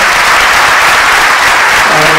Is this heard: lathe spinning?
no